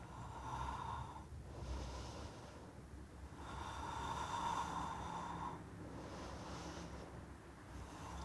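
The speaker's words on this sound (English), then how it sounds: "Try to smooth out the breathing." Deep, slow breathing during a prenatal yoga session, with close, steady inhale and exhale cycles repeating in an even rhythm, about three full breaths, with no talking.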